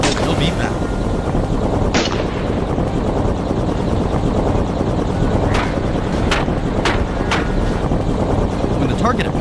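A helicopter flies overhead during a wild boar hunt, a loud constant rotor and engine roar filling the scene, with several sharp gunshot cracks punching through and a voice speaking over it.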